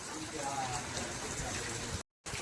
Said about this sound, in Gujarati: ક્યાંય આમ જવાય એમ છે નહીં એટલો વરસાદ છે